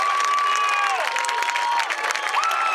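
Audience applauding and cheering at a high school marching band competition, a broad, sustained wash of clapping from a large crowd with whistles and held tones sliding across the top, continuous and fairly loud.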